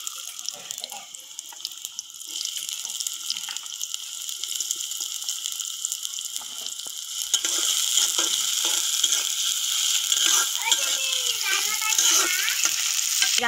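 Onions fry in hot oil in a karahi on the stove, a bright continuous sizzle that grows louder and denser partway through, with faint stirring and no voices.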